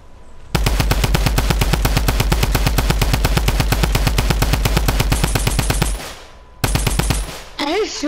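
Rapid automatic gunfire in a video game rattles loud and close in a long sustained burst, breaks off briefly, then resumes with a shorter burst before a voice cuts in at the end.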